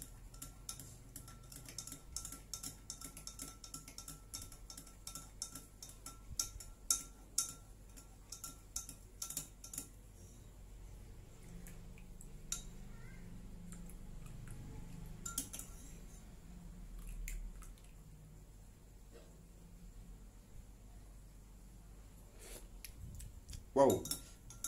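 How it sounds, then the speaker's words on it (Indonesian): A spoon stirs a homemade ginger, lemon and milk drink, giving light scattered clinks and ticks against the glass in the first ten seconds, then fading into a quieter swirl with low background noise. "bar iku diaduk. Diaduk. diaduk sampai rata."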